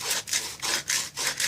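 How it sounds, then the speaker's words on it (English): Pallet wood is hand sanded with a sanding pad disc, giving rhythmic back-and-forth abrasive rubbing strokes, about six close, steady passes with no speech. "so I'm just using them as for hand sanding."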